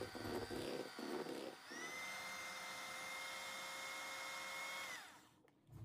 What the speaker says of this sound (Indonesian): Nah ini kita campurkan semua coklat bubuknya, kemudian diaduk atau di mixer perlahan sampai tercampur merata.